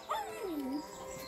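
A puppy at a house gives a single high whimpering yelp that bends downward in pitch, brief and fairly faint against quiet background noise.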